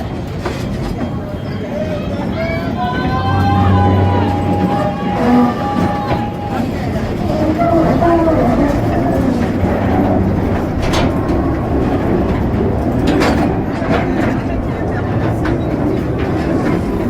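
The Calico Mine Train coaster at Knott's Berry Farm rolls along its track, a steady loud rumble with clattering wheel noise and squeals, with a recorded ride announcer's voice layered over the continuous mechanical din.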